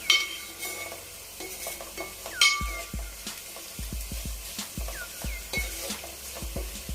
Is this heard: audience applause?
no